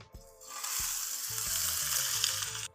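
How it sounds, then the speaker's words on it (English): Herbs and spices sauté in a hot pan with a loud, bright sizzle, broken by a few knocks and scrapes of stirring. "After which I'm going to saute up all of the herbs and spices here."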